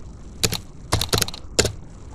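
Short bursts of keystrokes on a computer keyboard while a molecule name is entered in Gaussian chemistry software, close and crisp, with quiet gaps between clusters of clicks.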